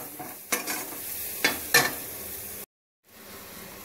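Pointed gourd and golden onions frying in a pan, a steady sizzle broken by three sharp spatula scrapes, then a brief cut to silence before the sizzling resumes.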